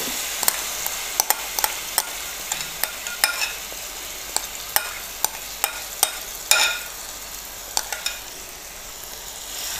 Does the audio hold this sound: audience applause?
no